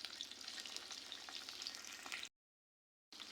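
Prawns frying in hot oil for a sweet bottle gourd dish, a dense, close crackling sizzle that cuts abruptly to silence and then returns.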